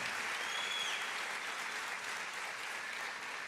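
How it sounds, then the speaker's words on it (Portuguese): Continuous, even applause from a church congregation during a conference service, dense and sustained from start to end without any spoken voice. "Eu queria que você aplaudisse essa casa maravilhosa"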